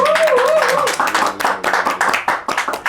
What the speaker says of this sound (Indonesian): Wah, banyak benar nih tepuk tangan nih ya.